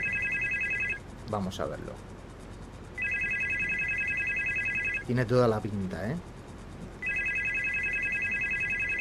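A telephone rings in the horror game Supernormal, a steady electronic trill repeating in long bursts with pauses, while someone talks briefly between rings.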